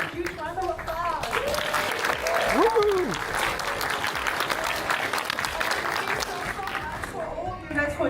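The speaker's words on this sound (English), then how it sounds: "Huge round of applause." Sustained applause from a crowd, dense and steady, with a few voices calling out over the clapping before it begins to fade.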